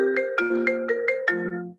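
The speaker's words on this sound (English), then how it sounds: "My phone's going off" A mobile phone ringtone plays a short, bright electronic melody of about six quick plucked notes, loud and close, with no voices.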